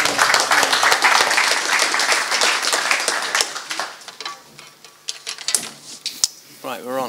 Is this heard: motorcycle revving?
no